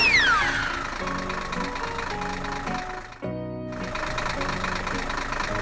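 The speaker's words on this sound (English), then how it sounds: "Tractor and harvester work together to harvest, filling the truck with rice." Tractor and harvester engines in the Monkey Farm 3D farming video game, harvesting rice into a truck, a soft, steady mechanical hum with a brief rising tone at the start and a short break midway.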